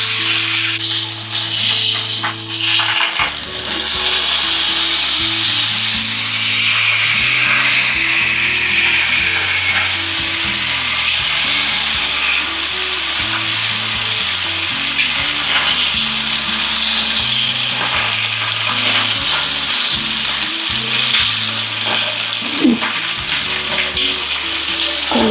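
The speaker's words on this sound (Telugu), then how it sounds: "కొంచెం చేప వేగని ఫ్రెండ్స్, వేగినాక మళ్ళీ చూపిస్తుంది." Fish pieces shallow-frying in hot oil in a pan for coriander fish curry, a loud, close, unbroken sizzle with frequent scraping and clattering of a utensil against the pan.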